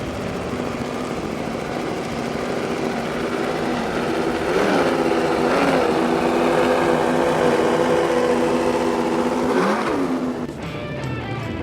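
Mercury Racing 600 SCI engines on a 2004 38-foot Top Gun powerboat roar loudly and steadily, with a couple of brief pitch swells as the throttle shifts, fading slightly at the end.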